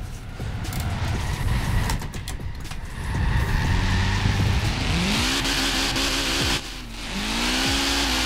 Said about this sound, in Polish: ślizganie się na hamulcu ręcznym, to nie jest zbyt stylowe w driftingu i raczej się powinno tego unikać